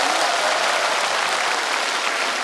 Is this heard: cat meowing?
no